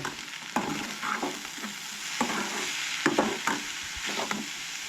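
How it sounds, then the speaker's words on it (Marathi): Onions and tomatoes fry in a pan for a Goan mushroom gravy, a soft steady sizzle with a series of irregular spatula scrapes and knocks against the pan, close and moderately loud, no talking. "कांदो टमाट चड घाला आनी सोय बरी न्हय मिक्स करून घ्या"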